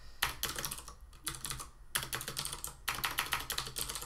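Objective-C code being typed on a computer keyboard: rapid bursts of crisp key clicks in three runs separated by brief pauses, close and clear, with nobody talking.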